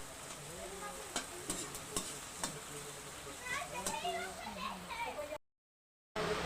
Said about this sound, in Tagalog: nagluto na tayo ng ating ginisa kamatis, sibuyas, at para sa ating gulay